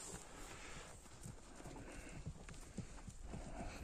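A horse being walked, its hooves clip-clopping in a steady, unhurried rhythm, quiet and somewhat distant against faint outdoor background noise.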